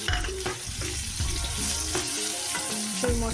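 Vigorous sizzling and crackling of food frying in hot oil in a kadhai, continuous and close with occasional clinks of stirring.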